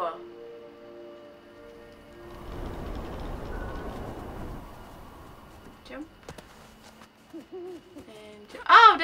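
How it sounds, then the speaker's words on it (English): A game owl hoots in Never Alone, a pitched call rising near the end of a quiet stretch, after a low rumbling wash and amid scattered game sounds and player voices. "I hear an owl."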